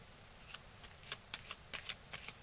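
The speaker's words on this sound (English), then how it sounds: "you just hear the cards shuffling" Quiet card shuffling: a string of soft, quick riffling flicks in uneven bursts, close by and faint.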